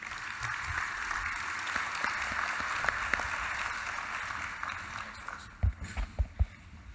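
An audience at the World Aquaculture 2014 plenary in Australia applauds to welcome Senator Richard Colbeck, a steady wash of clapping that slowly thins out, ending with a few heavy thumps.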